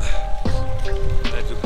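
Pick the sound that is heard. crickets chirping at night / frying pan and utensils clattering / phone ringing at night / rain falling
rain falling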